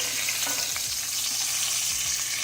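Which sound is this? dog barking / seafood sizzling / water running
seafood sizzling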